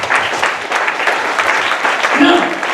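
A church congregation claps and applauds for Jesus during a sermon, a steady dense wash of clapping that holds evenly throughout with a few faint voices mixed in.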